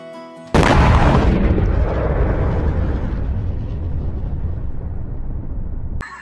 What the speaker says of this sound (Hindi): छोटू ने बम को दगा दिया।